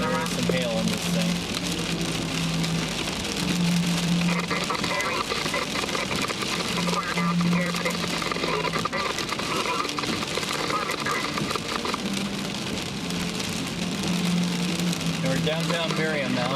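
Dense, steady pattering of rain and small hail drumming on a truck's roof during a storm, with an engine humming underneath and faint radio-like voices.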